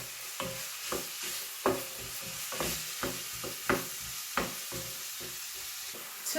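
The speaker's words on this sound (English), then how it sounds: "one small tomato chopped up, and I'm just going to shallow fry that so that it softens" Chopped onion and tomato shallow-fry in oil with a soft background sizzle, punctuated by regular spatula taps and scrapes against the pan every second or so.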